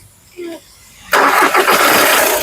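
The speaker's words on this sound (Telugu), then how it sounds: "ఒక్కసారి ఈ కార్ సింగిల్ సెల్ఫ్ లో స్టార్ట్ అవుతుందా లేదా అన్న చూపిస్తాను" A 2014 Skoda Rapid TDI diesel starts on a single crank: a short whirring starter, then the engine catches with a sudden loud roar and settles into a rough, steady idle close by.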